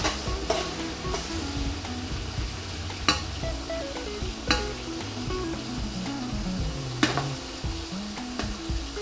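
Onions sizzle steadily in a pan while softening for lamb pilau, with frequent stirring scrapes and light clatters over the constant frying hiss and no talk.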